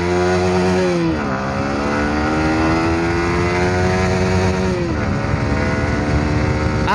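A Yamaha R15 V3 sport motorcycle on a night ride, its engine droning steadily with rising and falling revs through gear changes, loud and close throughout.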